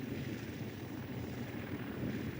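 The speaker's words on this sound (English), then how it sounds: "watch the many restored classic planes come back to life" A restored classic propeller aircraft rumbles at Duxford airfield, a steady, fairly distant engine drone that holds even throughout the short stretch.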